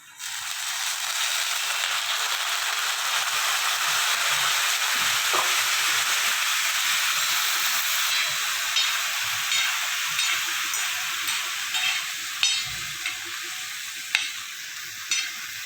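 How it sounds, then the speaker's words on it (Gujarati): Loud continuous sizzling and frying hiss as soaking water from rice is poured over sautéed vegetables for tawa pulao, with occasional stirring clinks and scrapes throughout. "હવે એમાં થોડુંક આપણે જે ભાત પલાળેલા છે એનું જ પાણી એડ કરી દેશું"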